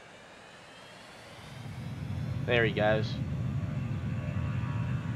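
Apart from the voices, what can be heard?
airplane taking off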